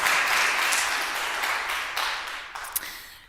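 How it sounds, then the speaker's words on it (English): Warm, dense clapping from an audience at a graduation ceremony, loud at the start and slowly fading over about three seconds, with a few last separate claps near the end. "let's clap, yes."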